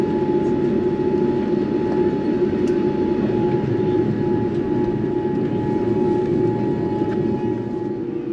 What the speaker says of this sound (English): As we taxi to gate K13